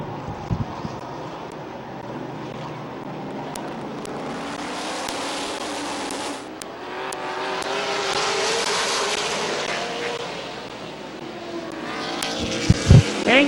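Stock cars at Midvale Speedway roar past under the green flag, a loud, sustained engine drone that rises and falls as the pack sweeps by, with sharp bursts near the end.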